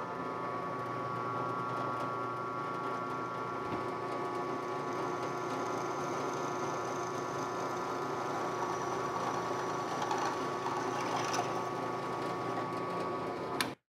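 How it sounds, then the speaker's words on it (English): A twist drill bit turning at 540 RPM bores into soft aluminum for a USB stompbox enclosure, producing a steady mechanical whine and hum that runs evenly and fairly close, then stops abruptly at the end. "if the drill bit isn't spinning fast enough, it tends to grab and lift and tear big chunks out"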